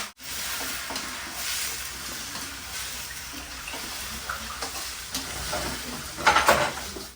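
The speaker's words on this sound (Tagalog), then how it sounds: "Luto na tayo ng gulay." Vegetables sizzle in a hot pan while being stirred in a home kitchen in Siargao, with a steady close frying hiss and a few scraping stirs near the end.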